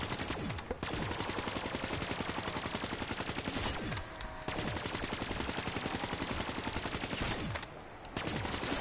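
KN-44 assault rifle fire in Black Ops 3 Zombies, long sustained bursts of rapid automatic shots with brief pauses between, loud and continuous.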